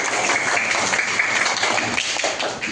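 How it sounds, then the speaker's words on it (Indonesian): A classroom of students clapping their hands together, a dense, continuous patter of many claps heard fairly close. "Tepuk tangan."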